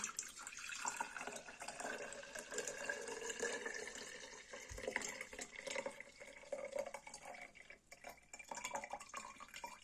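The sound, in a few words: straining and pouring saffron infusion into a jar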